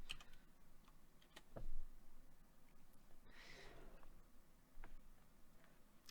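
Someone types a chat command on a computer keyboard, producing quiet scattered key clicks with a brief louder burst midway, faint against a soft background.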